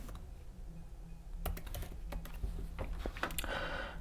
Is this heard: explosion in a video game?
no